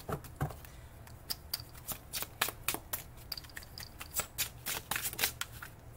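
Naughty Unicorn oracle cards riffle and shuffle close by, making a busy run of crisp, rapid card slaps and flutters that come in uneven bursts over a faint low hum, with no talking.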